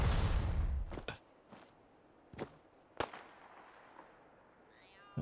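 Gunshots in the video game Fallout: Miami ring out as a few sharp, isolated cracks spaced about a second apart against quiet background, after an initial loud rushing burst.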